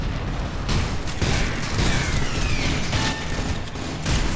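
A rocket blast in the Loadout shooter, heavy booming bursts amid dense crackling combat noise that stays loud throughout, with no clear single isolated explosion.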